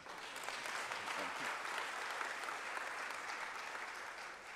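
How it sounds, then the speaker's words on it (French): Sustained applause from an audience at a formal presidential address on press freedom, a dense even wash of clapping that holds steady and fades slightly at the end. "Ça, vous devez applaudir quand même"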